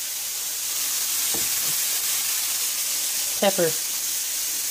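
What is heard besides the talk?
onions and carrots sautéing in a pan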